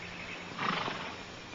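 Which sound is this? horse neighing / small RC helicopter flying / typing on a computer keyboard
horse neighing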